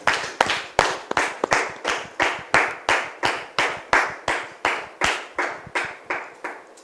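Steady applause from a church congregation welcoming a man named Didier, about seven seconds of dense clapping that swells in repeated waves and thins toward the end, with no talking over it.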